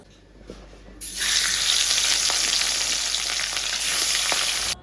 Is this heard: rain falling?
no